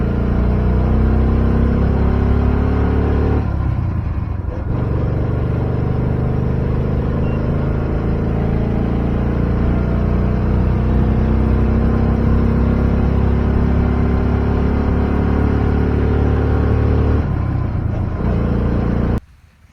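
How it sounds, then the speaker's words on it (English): A Honda Insight fitted with a 212cc lawnmower engine labors hard under load, its exhaust droning loudly and continuously with a rough, straining rumble that barely changes throughout. "in the next shot you can hear the exhaust and how the engine's working really hard"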